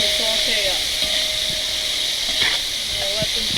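Two large onions and four bell peppers sautéing in a pot give off a steady, close hiss of sizzling that runs throughout, with faint kitchen clinks here and there.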